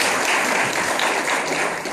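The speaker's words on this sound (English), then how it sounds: "Round of applause if you ever been in a bodega" A comedy audience at a Puerto Rican traveling theater applauds, with dense, steady clapping from many hands held at an even, fairly loud level for the whole moment.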